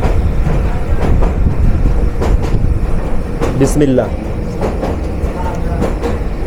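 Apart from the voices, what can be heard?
moving Kishoreganj Express train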